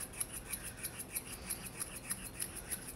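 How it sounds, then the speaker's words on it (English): Wire tool scruffing the frosting on an Easter bunny-butt cake to make it look like fur, giving a quiet, steady series of soft, rhythmic scratchy strokes, close and alone. "I'm just like scruffing it up with these wire, because you want it to look like fur."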